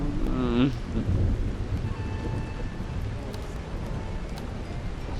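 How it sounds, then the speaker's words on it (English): Steady rain with low rumbling thunder fills a stormy scene in the Tavern Master tavern-management video game. A brief tonal blip sounds at the start, then a continuous wash of rain follows. "And it's raining."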